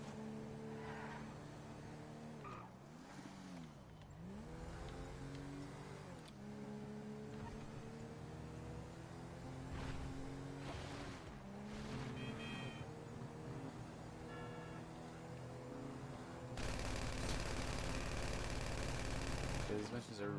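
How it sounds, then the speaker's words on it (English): A car engine in GTA V Online, droning and rising and falling in pitch as it revs and shifts, steady and fairly loud throughout with a harsher, noisier stretch near the end; a voice talks over it. "Where's the engine sound? It's that glitch with the engine sound on."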